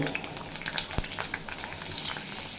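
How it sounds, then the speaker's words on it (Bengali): Bitter gourd frying in hot mustard oil over a low-to-medium flame gives a steady, soft crackling sizzle with scattered sharper pops, close by and alone. "তেল যখন খুব ভালোভাবে গরম হয়ে যাবে তখন ফ্লেমটা লো টু মিডিয়াম করে দেব আর এই তেলেই দিয়ে দেব"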